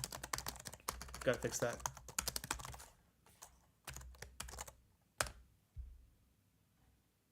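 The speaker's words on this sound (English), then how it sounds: "Again, I've got to type." Rapid typing on a computer keyboard, with dense clicking bursts for the first few seconds, then scattered short key taps and a couple of sharper strikes, with a brief spoken remark.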